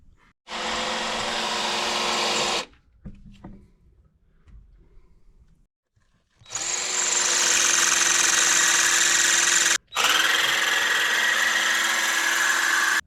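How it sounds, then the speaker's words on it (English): Power drill boring into a bolt welded onto a VW T4 van, heard as two sustained loud whining bursts, the first about two seconds and the second running to the end with a brief cut, separated by a quiet gap of faint rattles. "Welded one here, now I cannot even drill it."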